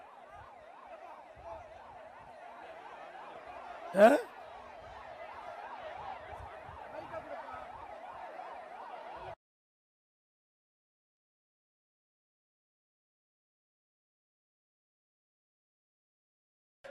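An ambulance siren wails near a political rally crowd with a fast, steady rising and falling tone, briefly mixed with a sharp burst, then cuts off into silence partway through.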